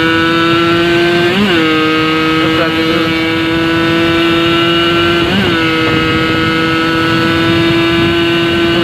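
A motorcycle at full throttle, its engine a loud, steady drone held close throughout, with brief pitch dips at each gear change, ridden on a road.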